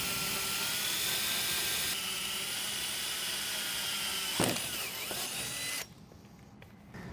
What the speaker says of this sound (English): drill a pilot hole first, and then we're going to cut this hole out